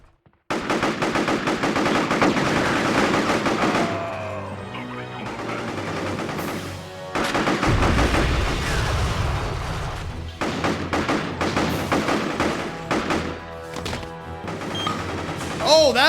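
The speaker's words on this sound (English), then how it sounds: "Oh, that's how you do a grenade." Grenade blast in the video game Psi-Ops: The Mindgate Conspiracy, a loud, deep boom partway through, surrounded by nearly constant rapid machine-gun fire and crashing impacts in a dense, loud battle mix, with occasional voices under the noise.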